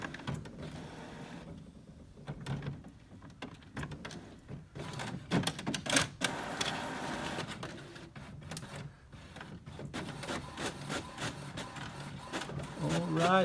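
A printer runs off a status report, its mechanism whirring and clacking in uneven bursts with feed and carriage noises, fairly close and moderately loud, with no one speaking.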